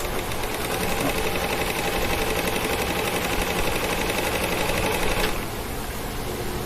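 A Toyota MH7600 sewing machine runs steadily under test, a close, continuous mechanical whir with a rapid needle rhythm that eases slightly in level near the end.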